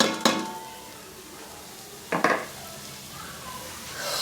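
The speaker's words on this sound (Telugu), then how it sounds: "అరటికాయ వేపుతున్నాను." Raw banana pieces frying in a pan of oil, with a soft sizzle beneath two sharp clinks of a utensil against the pan, close up.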